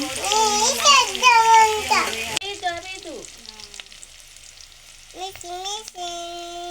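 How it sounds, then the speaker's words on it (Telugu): Onions, green chilies and curry leaves fry in a pan. A steady sizzle fills the first couple of seconds, then softer crackling continues under a voice talking throughout. "ఉల్లిపాయలు, పచ్చిమిర్చి అయితే కొంచెం దోరగా అయ్యేంత వరకు వేయించుకోవాలండి."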